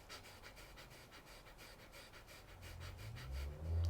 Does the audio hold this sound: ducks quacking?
no